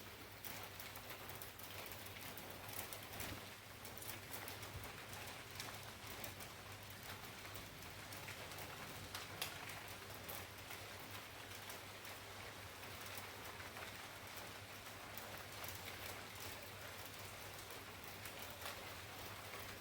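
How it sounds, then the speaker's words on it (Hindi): Heavy, fat raindrops falling through a rainy night, a faint but continuous pattering hiss that stays even for the whole stretch, with no one speaking. "देखो, मोटी मोटी बूंदें पड़ रही है, मोटी मोटी"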